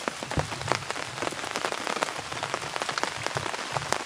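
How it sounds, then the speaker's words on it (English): Steady rain pattering on a surface nearby, a dense continuous hiss of drops with scattered louder splats. "It's raining out there, yeah?"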